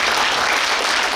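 An audience at a book launch event for a former lawmaker breaks into loud, dense applause, a brief continuous wash of many hands clapping close by.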